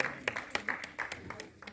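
Sparse clapping from a small audience at an expo hall belt presentation for an MMA world champion, a handful of distinct hand claps in an uneven rhythm, moderately close.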